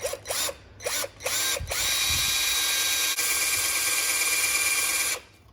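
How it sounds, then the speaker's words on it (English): A few short whirring bursts from a power drill, then a long continuous high-pitched drilling whine that cuts off abruptly near the end. "Let's just drill a hole front and center."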